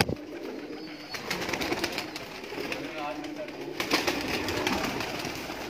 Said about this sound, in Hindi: और कबूतर देखो